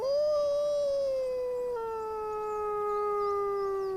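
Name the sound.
wolf howling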